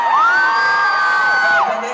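A concert crowd at the Tivoli venue in Utrecht cheers loudly and continuously, with high screaming voices and a sustained whoop rising and holding before dropping away.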